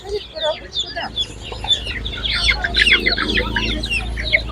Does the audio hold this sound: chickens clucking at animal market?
yes